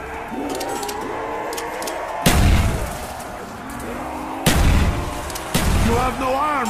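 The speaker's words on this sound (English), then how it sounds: "Grenades." Grenade explosions in the zombies mode Nacht Der Untoten: three heavy, booming blasts land a couple of seconds apart, loud and close, amid game noise and background chatter.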